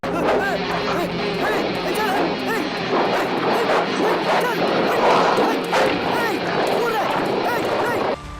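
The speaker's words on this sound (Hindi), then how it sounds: "वही कुत्ता उसे रास्ते में मिलता है जो अब ज़ॉम्बी डॉग बन चुका है और काफी एग्रेसिव है।" An aggressive zombie dog from the film Miruthan barks and yelps repeatedly in a frantic, loud attack, mixed with agitated yips and surrounding commotion and voices.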